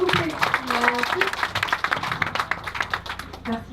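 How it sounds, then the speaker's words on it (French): Applause and clapping from an audience at a live event in Senegal, a dense run of claps under a voice speaking French over it, steady and fairly near. "Beaucoup plus d'applaudissements s'il vous plaît"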